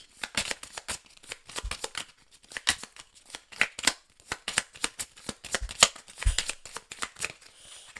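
Tarot cards are shuffled close by in a steady stream of crisp riffling and flicking bursts, each quick and soft, continuing throughout.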